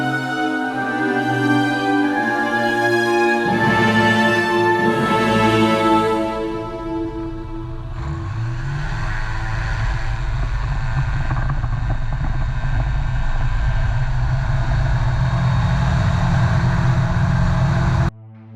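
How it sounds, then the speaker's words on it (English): A Flexwing microlight's engine drones steadily while lining up on runway 15 for departure. The close, continuous propeller hum shifts pitch partway through and then holds at a rougher, louder tone. "A Flexwing microlight. Golf Uniform Zulu lining up runway 15 for immediate departure."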